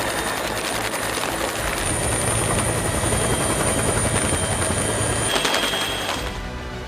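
Army rescue helicopters over flood-hit Sri Lanka, a loud continuous rotor thump and turbine whine that holds steady for several seconds before easing slightly at the end.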